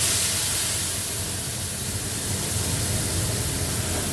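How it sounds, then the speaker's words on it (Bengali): Spice paste of turmeric, chilli, cumin and coriander dropped into hot oil, giving a loud, steady, close sizzling hiss that continues unbroken for several seconds with no talking. "এবার এই পেস্টটা গরম তেলের মধ্যে দিয়ে দেব"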